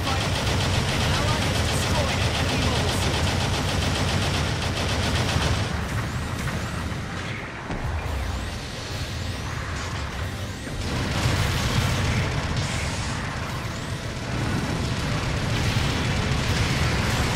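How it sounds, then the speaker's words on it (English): Long-range supporting fire barrage in Gundam Battle Operation 2, a dense roar of rumbling blasts and hissing impacts that goes on for many seconds, swelling and easing as a voice calls out over the din. "Long-range supporting fire incoming!"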